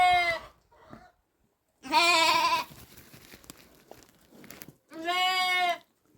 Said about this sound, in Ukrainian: Це наш баранчик, якого ми годуємо з рук